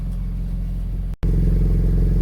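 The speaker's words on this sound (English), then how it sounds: "And it's got a set of mufflers on it, and I'll rev it up so you guys can hear that in just a second." BMW E46 M3 with mufflers idling loudly up close, a deep steady rumble that cuts out for a split second and then resumes even stronger, with no one talking.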